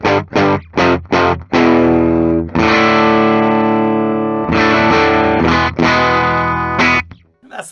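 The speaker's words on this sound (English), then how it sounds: "just listen to how distorted it can get" A 2009 Gibson Holy Explorer electric guitar plays through its bridge pickup with heavy distortion: choppy chugging stabs give way to long saturated sustained chords, then more clipped riffing, loud and gritty with a reverberant tail.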